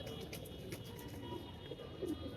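Pet pigeons kept by a fancier in Muzaffarpur coo softly in low, rounded calls over a faint steady background hum, quiet and without talk.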